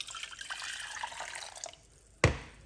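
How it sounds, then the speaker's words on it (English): Banana peel tea poured back into a pot, a steady splashing liquid stream that fades out, then a sharp knock near the end. "let's pour it out back inside of this pot."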